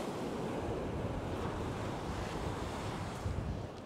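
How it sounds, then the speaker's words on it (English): Ocean waves breaking on a beach during beach fishing: a steady, broad roar of surf with wind buffeting the microphone runs throughout, fairly loud, with no voices. "Just beyond the waves, where the waves are breaking."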